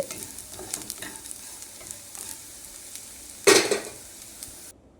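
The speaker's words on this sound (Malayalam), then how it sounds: "അങ്ങനെ ചുവന്ന ഉള്ളി നല്ലതുപോലെ മൂത്ത് വരുന്നുണ്ട്" Red shallots fry in hot oil for a Kerala mango pulissery, a steady close sizzle with scattered stirring scrapes and one louder burst of crackling near the end before it cuts out.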